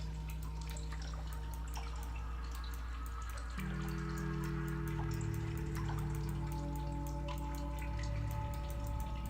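Flowing water in the video game Sisyphus Reborn runs as a continuous trickling and pouring under sustained droning tones, with small drip-like ticks scattered throughout, soft and steady with no speech.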